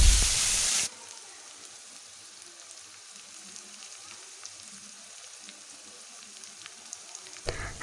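Kharkol leaf paste sizzles in hot oil in a wok, a steady soft frying hiss that carries on quietly and alone after a brief louder burst at the start.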